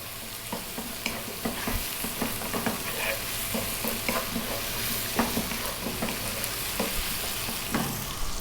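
Vegetables stir-fried in a pan over high heat, with a constant loud sizzle and frequent scraping, clattering stirring strokes across the whole stretch.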